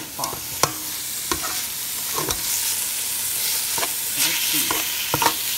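Beef sizzles quietly in a pot while a utensil stirs and scrapes it, with several sharp clanks against the pot wall over a steady low frying hiss and no talking.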